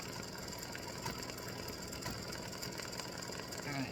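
An embroidery machine stitching freestanding lace gnome mummy earrings, a steady fast mechanical needle chatter with a constant hum, moderately quiet and continuous.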